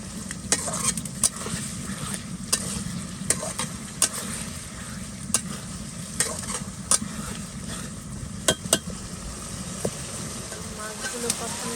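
Fresh hilsa fish curry cooks in a home kitchen pot, a steady bubbling sizzle broken by regular sharp clicks of a spoon stirring against the pan.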